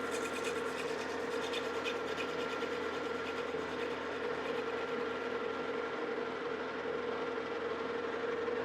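A lathe faces the surface of a bronze casting with a steady, continuous grinding whir, constant in loudness and close, with no talk.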